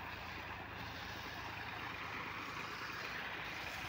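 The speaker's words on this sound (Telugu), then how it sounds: "డబుల్ ఇంజిన్ మోటార్ చూడండి ఎంత తోడుతుందో" A double-engine pump forcing out a heavy, continuous gush of water while dewatering a tower construction site in Amaravati: steady, fairly faint rushing wash with no pauses and no voices.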